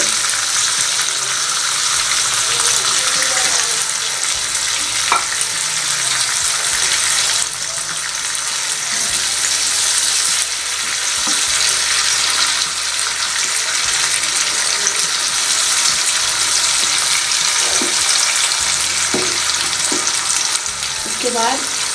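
Lotus root sabzi sizzles steadily in a pan with occasional stirring clinks, a continuous broadband frying hiss that stays moderately loud throughout with no voices.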